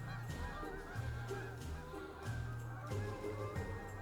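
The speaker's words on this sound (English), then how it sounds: "the geese are flying overhead" Wild geese flying overhead on a cold day outdoors, giving repeated honking calls at a moderate distance, steady and fairly clear, with a low hum underneath.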